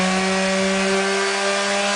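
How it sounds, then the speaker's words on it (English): Power sander working over painted furniture, taking the finish down to bare wood at edges and corners; a steady, loud, continuous whine with a sustained hum holds unbroken for the whole stretch, no talk. "we have gone ahead and sanded this up"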